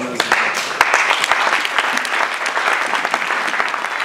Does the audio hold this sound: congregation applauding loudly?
yes